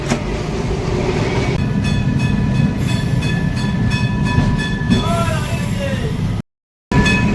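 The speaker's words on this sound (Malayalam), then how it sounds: "ട്രാം ഇങ്ങനെ നിർത്തും മറ്റു തീവണ്ടി പോലല്ല" A Kolkata tram rumbling along rails with a steady mechanical roar and whining tones, close by, before a brief cut.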